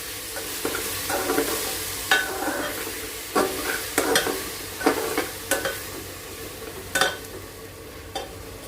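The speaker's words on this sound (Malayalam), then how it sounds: "നമുക്കിതിനകത്തോട്ട് ഇനി തക്കാളി അരച്ചത് ചേർത്ത് കൊടുക്കാം ഇത് നന്നായിട്ടൊന്ന് വഴന്ന് വരക്കും" Ground tomato paste sautéing in a pan for a Karnataka-style vegetable bath, a steady low sizzle broken by repeated sharp scrapes and clacks of a spoon stirring against the pan, close and fairly loud, with no talking.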